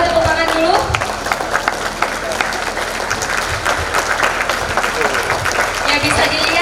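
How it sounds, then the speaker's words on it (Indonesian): Audience applause at an Indonesian arts stage performance, many hands clapping in a lively, uneven patter with whistles and cheers threaded through, some voices audible in the crowd. "boleh tepuk tangan dulu."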